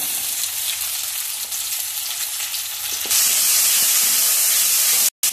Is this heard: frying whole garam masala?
yes